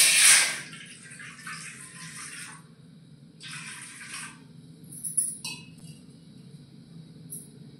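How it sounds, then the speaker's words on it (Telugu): Water is poured into a kadai to start sugar syrup for double ka meetha, a brief splash at the start followed by a couple of trickling bursts over a low steady background hum. "అందాజైతే వాటర్ అయితే పోసుకుంటున్నాం పాకానికి"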